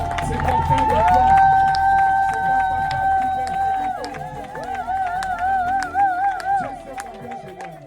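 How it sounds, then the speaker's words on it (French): A church congregation at a seminary's closing service cheers and applauds a friend together, giving a loud crowd roar with clapping. A strong sustained tone runs through it, and voices speak and call out over the noise. "Acclamons pour mon ami."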